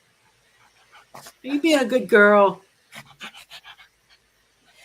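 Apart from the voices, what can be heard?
dog barking and panting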